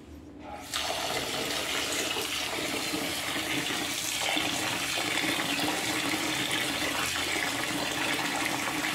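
Ration-shop rice for idli is rinsed under running water, making a steady, close splash and gush that starts abruptly and continues evenly to the end.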